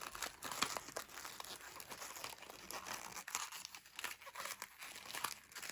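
Plastic packaging around a Rice Krispies treat is folded up on both sides, giving steady close crinkling and crackling with sharp rustles throughout and no voices.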